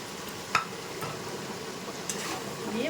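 An egg goes into a pan where pointed gourd and potato are frying, producing a soft, steady sizzle with a couple of light utensil taps as it is stirred in, fairly quiet and without talk.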